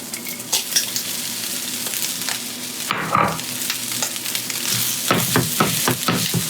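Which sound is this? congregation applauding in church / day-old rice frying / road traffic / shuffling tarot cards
day-old rice frying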